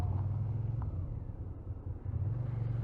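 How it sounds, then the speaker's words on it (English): A car rumbling past, a low engine drone rising and fading then swelling again, fairly close, with faint wind noise and no talk. "that's why I don't like cars here."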